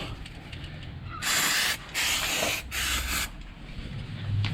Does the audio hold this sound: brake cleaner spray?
yes